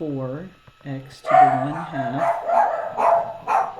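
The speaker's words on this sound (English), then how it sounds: "I don't know if you heard all that barking" Dogs bark repeatedly nearby in short bursts, over and between a person talking.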